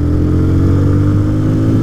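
A Yamaha Fazer 250 motorcycle engine revs up close and loud, a steady throaty mid-pitched drone held throughout with no talking.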